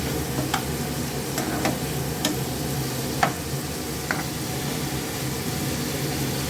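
Tomatoes go into a simmering katla fish curry with ridge gourd and potato; a steady sizzle and bubbling fills the pot, broken by a few light clinks and taps of stirring, with no talk.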